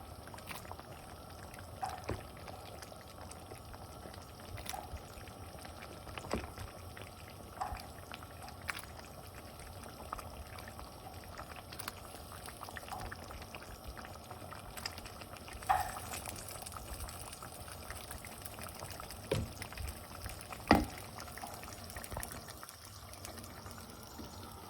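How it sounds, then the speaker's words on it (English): Vada curry is poured from the cooking vessel into another bowl in a quiet kitchen, with soft, faint liquid slops and a few light clinks against the dish. "I'm going to put this on another bowl."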